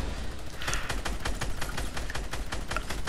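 Rapid automatic gunfire from Fortnite crackles in a steady stream of evenly spaced shots, loud and continuous over a dense background of game noise.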